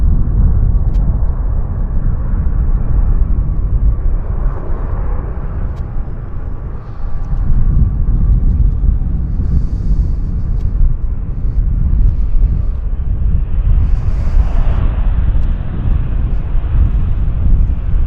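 A SkyWest airliner arriving at Vancouver Airport, a loud continuous low engine roar and rumble with wind noise, holding steady for the whole stretch with faint brief sounds over it.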